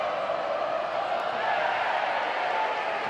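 Steady, dense roar of a stadium crowd at a St Helens v Castleford rugby league match, a continuous wash of massed voices with no single shout standing out.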